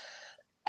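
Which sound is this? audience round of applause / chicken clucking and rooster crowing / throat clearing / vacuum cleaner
throat clearing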